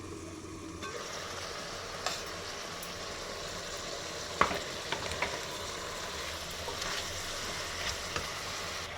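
Mutton curry with coriander stems simmering under a lid in a pot, giving a steady, moderate sizzling bubble throughout with a few faint clinks and taps, no voices.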